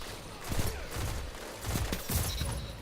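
Pulse rifle gunfire in Destiny 2 Forsaken, bursts of rapid shots firing in quick clusters across about three seconds, loud and dense over game noise with no talking.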